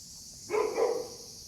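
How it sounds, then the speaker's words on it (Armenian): A dog barks somewhere off in the distance on a sunny Greek seaside, with a short burst of a couple of faint barks over a steady background hiss. "շուն այնտեղ հաչում է"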